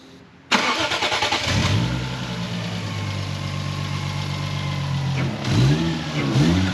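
A Toyota JZX90 engine cranks and fires up abruptly after priming, settling into a steady loud idle before a couple of quick throttle blips rev it up near the end.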